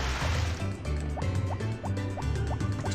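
In the Harvest Moon farming game, a watering can pours onto crops with a bubbling, filling water sound and a rhythmic series of short dripping blips, close and fairly loud.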